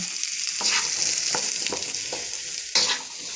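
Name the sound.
stir-frying vegetables in a wok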